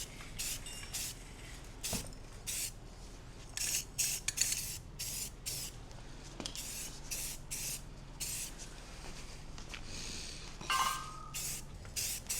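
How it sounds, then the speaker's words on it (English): Rust-Oleum aluminum metallic spray paint hisses from an aerosol can onto an old ATV's front bumper in repeated short bursts of varying length, close and fairly loud, with occasional clinks between passes. "Let's just see if we can get a little light spray paint job on the front bumper."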